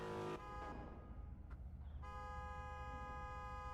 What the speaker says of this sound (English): And now we're back to the horn honking.